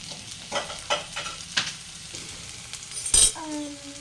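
Paneer masala sizzling in a pan as it is stirred and tossed toward golden brown, with soft scraping strokes at an irregular rhythm, a louder clatter near the end and a brief tonal whine afterward.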